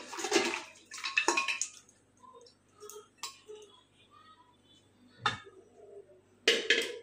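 Boiled mutton and its stock pour out in several short splashing bursts, separated by quiet gaps with a few light clinks of a pot.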